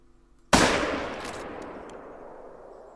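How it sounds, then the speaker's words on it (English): Rifle shot at a buck in theHunter: Call of the Wild: one loud, sharp crack followed by a long, rolling echo that slowly fades, with no talking. "we might as well try for a shot on him"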